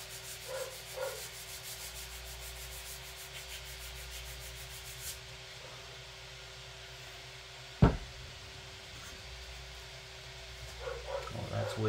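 Quiet, steady rubbing of a heavier-grit sanding block on balsa wood with a low background hum, broken by a single sharp knock partway through.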